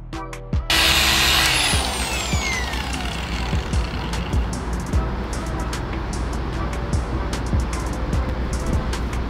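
Power polisher working car paint during a down-to-the-metal scratch repair spins up with a rising whine, then settles into a steady, close, continuous whir that runs to the end.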